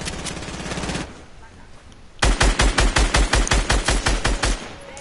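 Gunfire in Fortnite: a short burst, a pause, then a loud rapid string of about a dozen evenly spaced shots close up.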